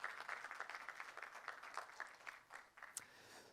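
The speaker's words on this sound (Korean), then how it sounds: "서로 환영의 박수를 좀 보내주시겠습니까?" Audience applause at a youth policy forum in South Jeonnam province welcoming youth institution heads and teachers, a soft, steady patter of many hands at a distance, fairly faint throughout.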